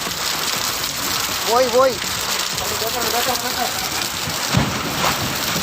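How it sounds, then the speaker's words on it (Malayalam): Heavy rain pours down in a steady, loud hiss in Kuttiady, Kozhikode, with a voice rising briefly through the downpour. "കനത്ത മഴയുണ്ട്."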